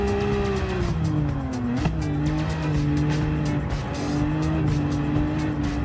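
A Chaparral 2D race car at the Nurburgring 24-hour in Gran Turismo 7 roars steadily at high revs, its engine note rising and dipping through shifts with tire squeal, loud and continuous with no talk.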